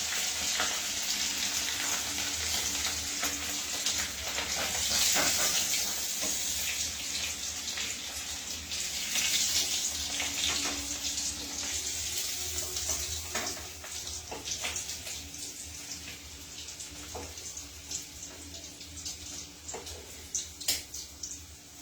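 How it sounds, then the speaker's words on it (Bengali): Potatoes frying in spiced oil with red chili powder for masala aloo dum give a steady, loud, close sizzle that continues throughout, with occasional stirring scrapes and no talking. "দেখুন এটা কিন্তু লাল করেও ভাজা হয়ে গেছে"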